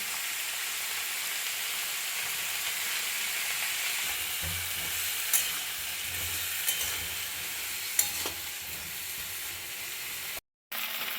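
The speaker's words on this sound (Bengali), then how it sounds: "সবজিটা আমার খুব ভালোভাবে ভাজা হয়ে গেছে" Vegetables frying in oil with salt and turmeric give a quiet, steady sizzle, broken by a few soft clinks and stirring scrapes of the spatula in the pan.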